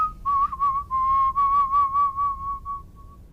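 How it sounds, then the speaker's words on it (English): A person whistles a clear, sustained melody alone, close and bright, with a few wavering held notes and quick trills before tapering off. "Wasn't that whistling so impressive?"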